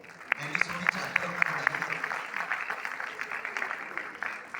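Applause at a village gathering in Punjab, a crowd clapping in a loose, quick patter that starts with sharper single claps and settles into a steady, moderately close wash, with a voice talking over it.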